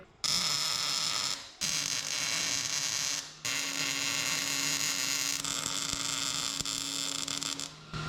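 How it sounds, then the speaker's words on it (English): Welding on the frame of a 1976 Chevy Luv: three long, loud, steady bursts of crackling, buzzing arc noise, separated by brief pauses. "Weld it."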